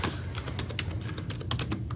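Rapid typing clatters on a computer keyboard, the keystrokes coming in quick, uneven bursts that stay close and clear, with no voices.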